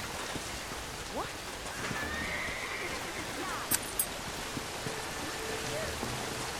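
A horse whinnies in the Red Dead Redemption video game, with a brief call cutting through rain noise and soft hoof clops in the background; no voices stand out.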